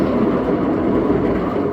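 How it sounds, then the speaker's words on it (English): A cat exercise wheel spinning steadily, giving a continuous loud rolling rumble with a faint rhythmic clatter, close and alone without speech. "This wheel itself is quite noisy"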